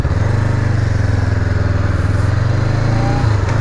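Honda CBR500R motorcycle engine droning steadily and close while riding on a road test, a loud, even low rumble with a slight shift in pitch near the end.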